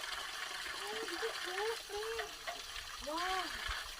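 Cold mountain water pours steadily at a waterfall near Shillong Peak, a soft continuous rush heard under people talking nearby.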